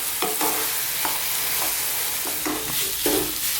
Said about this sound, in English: let that tofu soak up some beautiful flavours that we've got there. So I'll give it a stir every now and then